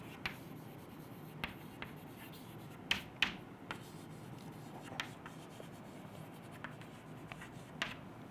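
Pen or marker writing the word ligaments on a board, soft rubbing strokes with several sharp taps and scratches spread over a few seconds, quiet and close, with no talk.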